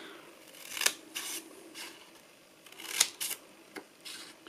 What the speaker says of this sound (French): moi j'utilise un ciseau de chez American Craft. Vous voyez qu'il y a plusieurs lames.